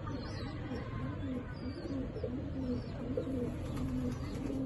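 Pigeons of a fancy breed coo softly in a low, repeated rhythm, a few birds murmuring together at close range with faint chirps above, steady throughout with no talk.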